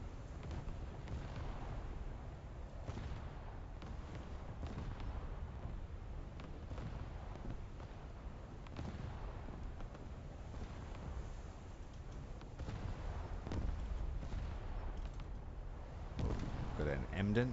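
A heavy cruiser with ten 8-inch guns fires in a naval combat game, booming salvos repeating irregularly over steady wind and sea rumble, with someone talking over parts of it.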